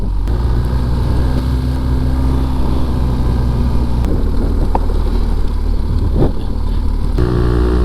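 A vehicle fitted with an aftermarket exhaust rumbles loud and close with a steady low drone on a drive through the Flinders Ranges, with a few brief clicks and shifts in tone but no talk.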